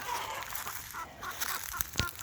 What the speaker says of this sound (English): We finally took the Silkies out of Willow's corral